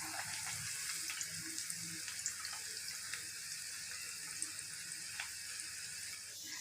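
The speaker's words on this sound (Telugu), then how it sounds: "ఇలా గోల్డెన్ బ్రౌన్ కలర్ వచ్చేంత వరకు మనం డీప్ ఫ్రై చేసుకోవాలండి" Leftover rice punugulu deep frying in hot oil, a steady soft bubbling hiss with faint crackles, fairly quiet and continuous; a voice briefly speaks once.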